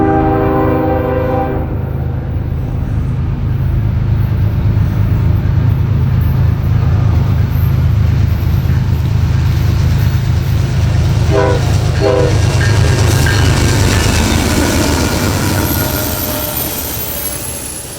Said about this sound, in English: NS Train 211 would soon break the Sunday silence as it rolled through the station.